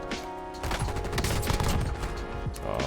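Gunfire from a C9 SMG in Warzone Season 5 comes as dense, rapid bursts close by, sustained and loud across the whole stretch among other game sounds.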